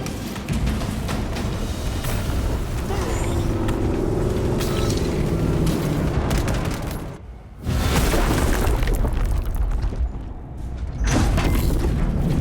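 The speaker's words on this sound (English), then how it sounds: "I hear engines." Spaceship engines roar in the video game Space Marine 2, a heavy, booming rumble that holds loud and steady, drops out briefly just past the midpoint, then surges back with deep mechanical thrums and no speech.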